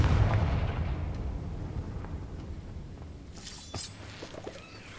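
Confringo, an explosive spell in Hogwarts Legacy, is cast, and a heavy booming blast rolls out and decays, followed by a brief crackle of debris and a sharp burst near the end.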